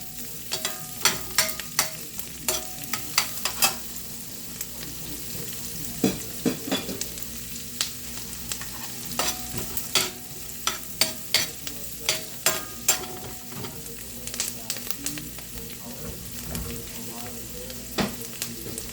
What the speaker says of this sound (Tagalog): Pag rumatik na yung bawang natin, lagyan na natin yung sibuyas natin.